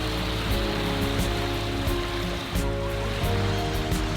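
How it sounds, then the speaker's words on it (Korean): Waves washing continuously onto the beach on Ganghwa Island, Incheon, a dense, steady surf roar with a faint swell and dip midway and no voices. "갈매기 울음소리와 파도 소리가 어우러져 절묘한 화음을 선물합니다."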